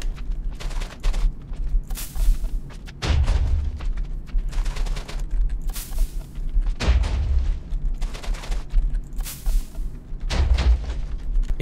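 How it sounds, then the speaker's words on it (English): TNT cannon explosions in Minecraft, a series of heavy booming blasts every few seconds with crackling bursts and thuds between them, loud and close, with no talking. "you can easily shoot someone else's TNT cannon and blow them up"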